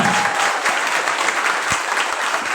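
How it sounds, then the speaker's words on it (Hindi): A hall audience at a Hindi department prize distribution ceremony applauds in a short, loud, dense burst of clapping that holds steady for under three seconds. "जोरदार तालियां"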